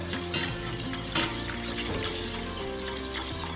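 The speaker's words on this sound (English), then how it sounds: "Stir it for around 2 minutes, and then we can add some cheese." A spoon stirs milk into a flour-thickened nacho cheese sauce base in a pan, a continuous soft scraping and bubbling sizzle heard up close, steady and even without talking.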